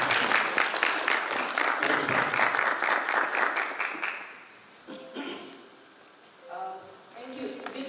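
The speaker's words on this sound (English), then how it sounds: "Why don't we give him a big round of applause?" Audience applause welcoming a speaker at a Kenyan sanitation hackathon event, dense clapping for about four seconds that fades out, followed by scattered clatter and faint voices.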